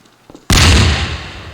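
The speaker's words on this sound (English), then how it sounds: "here come all the people out of their rooms to see what the explosion was" A sudden loud explosion in a video game map, with a sharp booming onset after a few quiet clicks, then a broad rumbling decay that fades over about a second.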